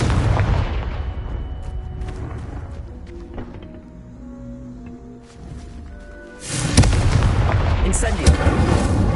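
The Confringo spell cast in the video game Hogwarts Legacy, heard as loud booming blasts with a rumbling fiery burst at the start, quieter magical tones and effects in the middle, then another loud explosion near the end.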